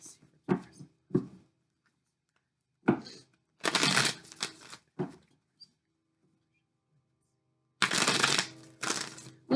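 Tarot cards being shuffled and drawn, with short bursts of riffling and slapping cards separated by quiet gaps, close and fairly loud.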